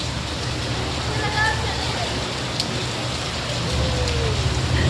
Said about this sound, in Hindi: देख कितनी बारिश हो रही है।